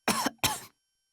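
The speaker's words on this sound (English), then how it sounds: "Ryuki started to cough." A person coughs twice in quick succession, close and fairly loud, each cough short and sharp with a brief gap between them, then silence.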